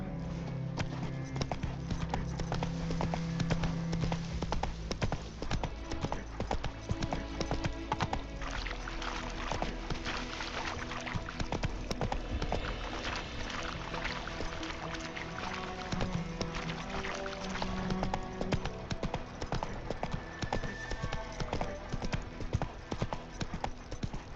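The horse Roach trotting in The Witcher 3: Wild Hunt, with a steady, continuous clip-clop of hooves throughout, close and even, over ambient game sound.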